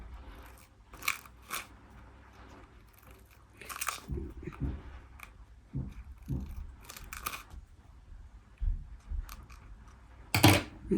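Scissors make small snipping cuts into tape wrapped around a tube for a cross-stitch Christmas cracker craft: quiet, scattered clicks and snips spaced irregularly, close by in a still room.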